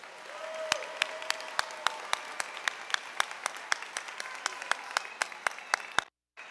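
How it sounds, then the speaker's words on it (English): At a Walnut Ridge High School graduation ceremony, a sparse audience applauds with distinct, steady claps echoing in a large hall, ending abruptly into silence. "Let's give them one more round of applause."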